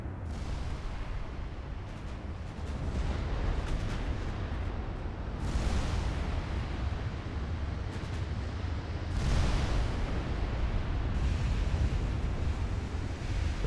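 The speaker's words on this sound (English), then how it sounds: "Torpedo hit on Minerva." A torpedo strikes a warship during a 1945 North Sea naval battle in Ultimate Admiral Dreadnoughts, heard as a continuous roaring, surf-like rumble with swelling bursts of blast and spray and no voices.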